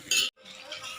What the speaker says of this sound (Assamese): ভাজিখন মই লাৰি আছোঁ